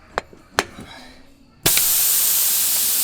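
Air bursts from a truck tire as the tire plug is pulled, a couple of sharp clicks followed by a sudden loud, steady hiss that continues unbroken.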